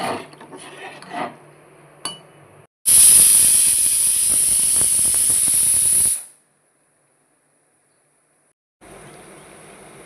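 A pressure cooker full of dalia khichdi lets out one loud, shrill steam whistle lasting about three seconds, with hiss and rattle, after some kitchen clatter; it cuts off into silence before quieter noise returns.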